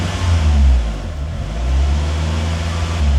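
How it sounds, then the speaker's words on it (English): A Mitsubishi Evo that has sat unused for 17 years and is partly seized runs under a light touch of throttle, giving a steady, close engine drone with mild swells and no talking. "I'm gonna give it a tiny bit of throttle."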